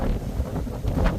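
Strong wind buffets the microphone on a breezy clifftop along the Appalachian Trail at Little Stonyman Cliffs, with a steady rushing roar and a few stronger gusts.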